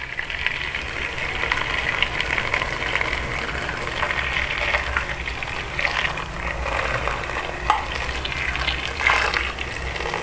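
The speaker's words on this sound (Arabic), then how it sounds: "هننزل عليهم بالمية المغلية" Boiling water pours from a vessel over washed orange peels in a bowl, a steady rushing gush lasting several seconds, close and moderately loud, with faint clinks along the way.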